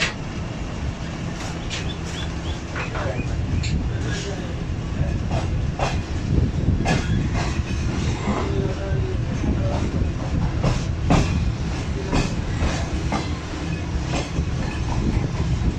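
Green Line Express passenger train on the Rawalpindi to Lahore line runs on rails with loud, continuous rumbling and rhythmic clickety-clack of wheels over joints, with sharp metallic clicks throughout.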